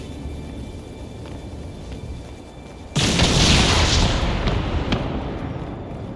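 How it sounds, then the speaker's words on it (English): Fireworks go off in the fantasy role-playing game Dragon Age: Inquisition: a sudden loud boom bursts out after quiet ambience, then crackles and fades away, with no talking. "let's go light these off. We skipped the fireworks back at the Winter Palace"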